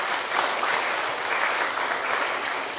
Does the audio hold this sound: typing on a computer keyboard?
no